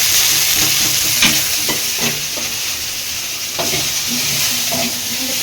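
Small onions and tomatoes sauté in a pan: a constant close sizzling hiss with intermittent stirring scrapes and taps of a spatula, no talk.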